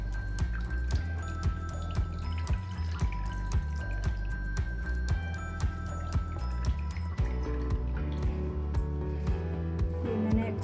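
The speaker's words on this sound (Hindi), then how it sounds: "ये अच्छी तरह हम इसको निचोड़ लेंगे। एक्स्ट्रा पानी जो भी है वो बाहर कर देंगे।" Water drips and trickles steadily from chhena being squeezed by hand while homemade paneer is made. The drips fall close by in a repeating pattern.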